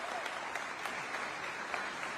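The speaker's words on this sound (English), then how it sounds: "Give him a round of applause." Steady applause from a crowd, dense clapping throughout at a fairly quiet, distant level.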